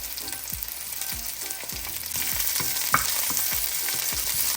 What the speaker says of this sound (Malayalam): നമ്മുടെ ഉള്ളി ഒന്ന് ചെറുതായിട്ട് വാടിയിട്ടുണ്ട്. അതിലേക്ക് നമുക്ക് ഇഞ്ചിയും പുളിയും വെളുത്തുള്ളിയും കൂടെ ഇട്ട് കൊടുക്കാം.